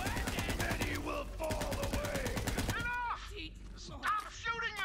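Rapid gunfire from the video game Borderlands 3, bursts of shots layered under game music and shouted character dialogue, with sharp repeated cracks across the clip.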